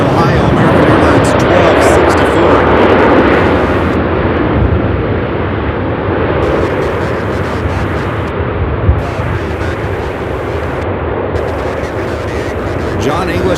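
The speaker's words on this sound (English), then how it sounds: "This one arriving from Cleveland, Ohio, American Airlines" An American Airlines jet arriving from Cleveland at Charlotte Douglas International Airport, a loud sustained roar that eases slightly as it passes, with a voice talking over it.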